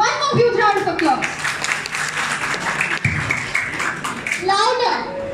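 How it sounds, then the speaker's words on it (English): Crowd at a Safari Mall lucky-draw event clapping and cheering in a broad, steady wash of applause across the middle of the clip, with children's voices and a host's speech at the start and end. "One more huge round of applause."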